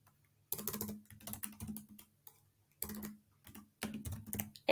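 Bursts of typing on a computer keyboard, close and clear, coming in several quick runs of keystrokes separated by short pauses while payment details are entered; no talking.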